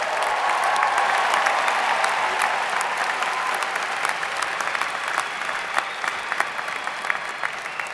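Sustained applause from a large crowd at a university commencement ceremony, loud and dense at first, then gradually thinning into scattered claps.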